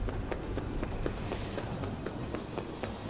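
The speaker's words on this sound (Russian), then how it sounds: "Я слышал какие-то шаги." Quick, light footsteps inside a creepy dance-floor level of a horror video game, a steady run of soft taps at a brisk pace under a constant droning background.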